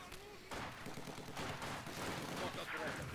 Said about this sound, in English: Where's the mortar? Is it shooting? It kind of is. I mean, it is shooting